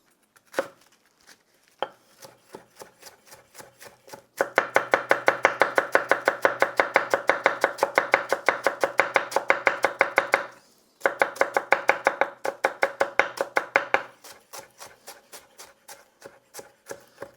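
A knife chops cabbage by hand on a cutting board for coleslaw, a fast steady run of crisp close knocks that pauses briefly and then resumes.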